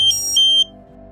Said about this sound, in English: You'll hear 2 more beeps.